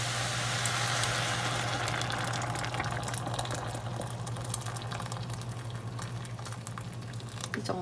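Hot water is poured into a pot over stir-fried vegetables, giving a steady hissing, bubbling patter that stays fairly faint and even throughout, with a low hum beneath and no talk.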